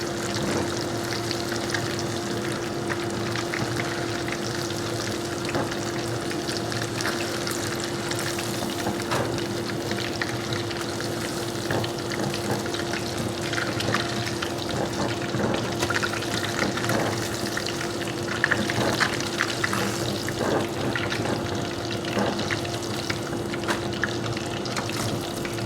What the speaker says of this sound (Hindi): तो व्यूअर्स आप देख सकते हैं फ़िश तकरीबन हमारा फ्राई हो चुका है।